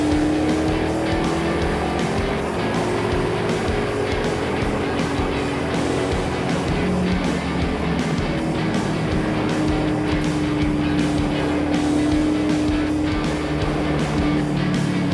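Race car engine droning steadily at high load as it climbs a hill toward the keyhole on a NASA racing circuit, loud and continuous throughout with no talk, chasing a Mazda Miata.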